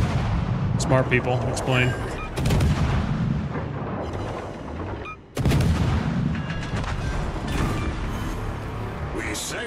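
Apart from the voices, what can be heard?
ship's anti-aircraft guns firing in naval video game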